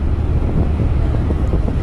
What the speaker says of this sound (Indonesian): Cuaca sore hari ini anginnya masih kenceng banget nih.